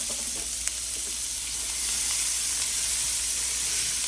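Onions, peppers and garlic fry in a skillet for a breakfast pizza, a close, even hiss that grows a little louder halfway through.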